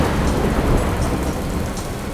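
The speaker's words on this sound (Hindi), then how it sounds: "बहुत तेज बारिश हो रही थी और बिजली कड़क रही थी।" Heavy rain pouring down in a thunderstorm, a dense, loud, continuous hiss with low thunder rumbling underneath, no talk.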